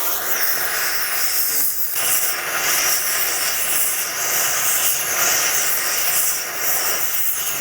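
Fire extinguisher discharging next to a BMW X5, a steady loud broadband hiss of spray lasting throughout with slight surges and no pauses.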